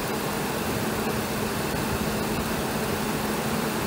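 A 2003 Ford Ranger with a 3.0L engine and a charging fault idles on its own, a steady, even rumble with a broadband mechanical hum, close and constant with no voices.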